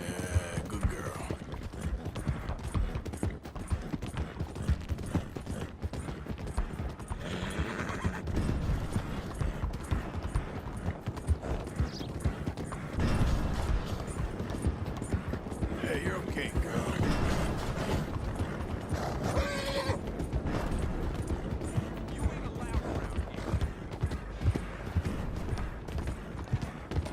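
Horse hooves clip-clopping at a steady rhythmic gait in the Red Dead Redemption 2 video game, a continuous trotting patter under a rumbling game soundscape with a faint neigh here and there.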